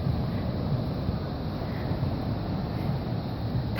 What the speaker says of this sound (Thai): ท่ามกลางเสียงคลื่นและลมแผ่ว